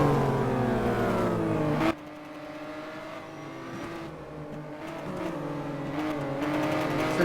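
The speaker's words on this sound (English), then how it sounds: "All three cars are on the Wellington straight, making their way down into the Woodcote complex again." Race cars roar in the Simraceway racing game during a Car Of The Year 2014 championship race, down the Wellington straight toward the Woodcote complex: loud, steady engine drones with shifting pitch and a sudden drop as the sound cuts to a distant car.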